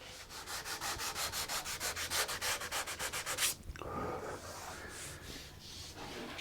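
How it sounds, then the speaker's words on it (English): Hand sanding the back of a wooden guitar neck, a rapid regular series of rasping strokes, close and fairly quiet, stopping abruptly before softer scattered rubbing and handling sounds. "when I'm done sanding the back of this neck"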